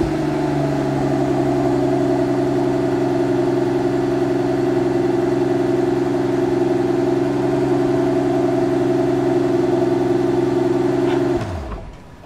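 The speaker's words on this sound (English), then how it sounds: "It is time to listen to the sound of this engine." A 2021 Mercedes-Maybach S-Class engine runs at a smooth, steady idle with a low even hum, close and loud, then shuts off near the end.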